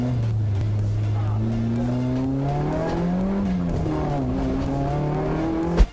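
Race cars at speed, including one running without its steering wheel, give a continuous loud engine drone that stays steady with rising and falling pitch, and a sharp bang comes right at the end.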